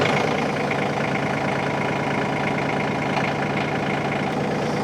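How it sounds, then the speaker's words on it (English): An LS MT232H compact tractor's diesel engine runs at a steady idle, a loud continuous mid-low rumble with an even chugging rhythm, close by and with no talk over it. "So I'll crank this up real quick and I'll let you see that light come on the dash."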